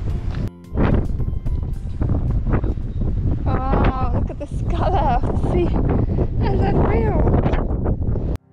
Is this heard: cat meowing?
no